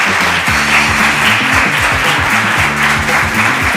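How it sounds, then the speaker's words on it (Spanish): A live audience applauds guests Eva Manjón and Diego Galaz at an indoor event, a loud, dense clapping that runs steadily throughout. "os voy a pedir un aplauso muy fuerte para Eva Manjón y Diego Galaz"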